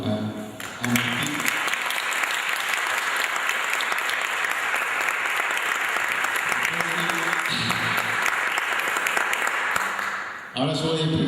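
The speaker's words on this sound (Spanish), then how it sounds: "vamos a dar un aplauso lindo a Martín." Warm audience applause at a talk on the economics of wisdom, steady and fairly loud for about ten seconds, with brief voices at the start and end.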